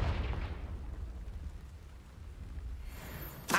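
Confringo blast spell in a Harry Potter video game, a low rumbling explosion that rolls and decays over several seconds, followed by a sharp bright crack at the very end.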